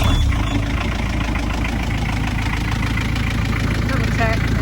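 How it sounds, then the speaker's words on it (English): A narrowboat's diesel engine idles steadily at close range, with a low, even mechanical rumble and rapid chugging throughout. "And now he can start the engine."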